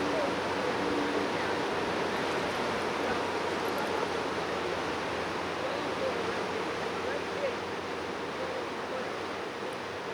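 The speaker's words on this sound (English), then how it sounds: "You can hear the water flowing past" Steady rushing water flows continuously at an even level, a broad hiss of current with no pauses.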